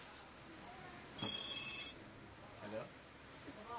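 A telephone rings in a room, a brief electronic ringtone burst standing out over steady background noise and nearby conversation.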